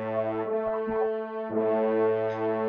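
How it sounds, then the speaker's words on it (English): A sustained tone followed by one twice its frequency, forming an octave interval, played as steady buzzy notes one after the other and then held together, close and clean without speech. "Here's the note, and it's twice its frequency. This interval is the octave."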